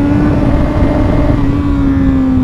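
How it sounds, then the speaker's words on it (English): Engine of a 2015 BMW S1000RR sport motorcycle still in its break-in period: a loud, sustained high-rev drone held steady with a faint upward drift in pitch, close and alone. "This is as high revs I can go."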